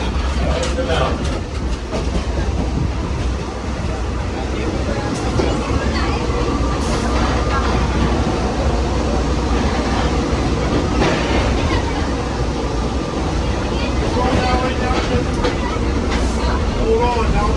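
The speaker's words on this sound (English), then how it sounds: "now we're going on to the main line up the Reading Northern Railroad and the mountain" Scenic railway train running on the Reading Northern Railroad main line toward the mountain, a loud, steady rumble with rhythmic wheel clatter throughout, close by with a voice talking over it.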